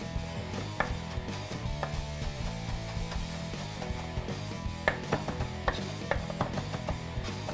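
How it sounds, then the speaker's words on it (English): A knife chops and minces a bunch of balled-up fresh herbs on a board for burger preparation, giving a steady run of close, crisp taps with scattered louder strikes, with no talking. "There's your chopped or minced herbs."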